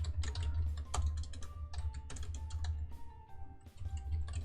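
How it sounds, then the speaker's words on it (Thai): Someone types localhost on a computer keyboard while setting up a XAMPP local web server, producing a quick, uneven burst of soft key clicks, close and fairly quiet, with no speech. "พิมพ์ local host ครับ"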